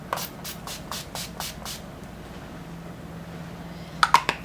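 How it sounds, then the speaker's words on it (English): A quick burst of about six short sprays of makeup setting spray from a pump bottle, close by, then a pause and a few faint clicks and taps. "And I just spray it all over my face."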